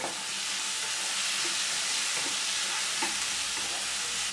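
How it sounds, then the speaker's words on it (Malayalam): Tomato, green chili, curry leaves and dried chilies sizzle and fry in a pan as they are stirred, a loud continuous hiss close up with faint scraping touches and no voices. "ഇത് ചേർത്ത് നന്നായിട്ട് വഴറ്റി കൊടുക്കണം."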